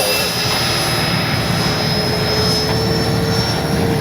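An E-flite 80mm Habu XS RC ducted-fan jet is flying, giving a steady, loud, continuous high whine with a broad rushing roar that stays constant throughout, with no voices.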